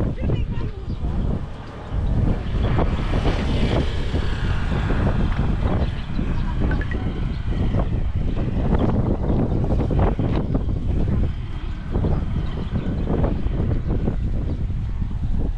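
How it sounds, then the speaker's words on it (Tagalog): Steady wind buffets the microphone outdoors beside rice fields, a continuous low rumble with gusts swelling and easing throughout. "Yung gumagalaw yung palay. Mahangin eh."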